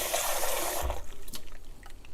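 Tap water splashes briefly into a milk frother pitcher, rushing loudly for under a second before fading to faint drips and trickles.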